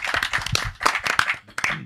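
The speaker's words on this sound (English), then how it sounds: "Round of applause and studio audience," A few people clap irregularly for a podcast's studio audience, short uneven bursts of hand claps with gaps between them, close and fairly loud.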